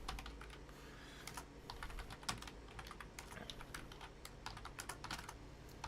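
Steady, quiet typing on a computer keyboard at a Linux lab workstation, dense runs of soft clicks over a low background hum, continuing without pause.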